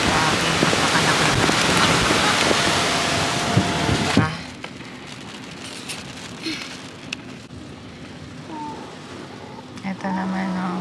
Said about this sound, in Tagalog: Ang lakas po ng hangin dito.